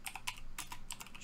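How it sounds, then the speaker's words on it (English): Fast typing on a computer keyboard while coding a Bukkit chat plugin, a quick close run of bright key clicks in uneven bursts, heard alone without talk. "I'm like really typing too fast"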